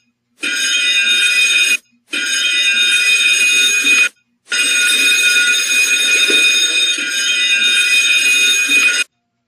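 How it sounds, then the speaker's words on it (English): A ship's general alarm, a loud, harsh buzzer, blares in three long blasts separated by short gaps, steady and insistent. "a general alarm should be raised"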